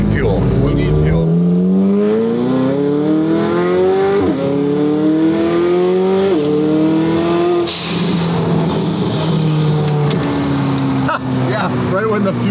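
McLaren 720S GTR on a road drive, engine loud and close as revs climb in long rising sweeps, drop sharply at each gear change and build again, a continuous roaring pull.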